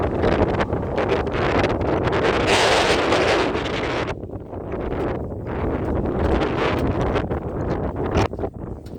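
Strong wind roars and buffets the microphone on Sobaeksan mountain near Birobong peak during a snowy winter hike, a loud, continuous broadband rush that surges for several seconds, then eases slightly while still blowing steadily, with no one speaking.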